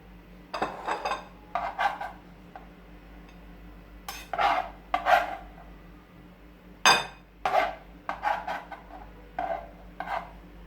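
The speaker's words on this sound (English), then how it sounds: "I am using piece of green hot pepper and piece of orange black pepper that I am gonna mince" A knife minces pieces of green and orange hot pepper on a cutting surface for Jamaican-style guacamole, producing irregular bursts of close, crisp chopping taps separated by short quiet gaps.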